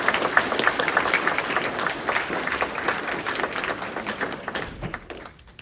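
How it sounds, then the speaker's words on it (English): Applause from a math league summer tournament audience for the students' parents: dense, steady clapping from a full room that thins and fades out in the final second. "So one more round of applause, please,"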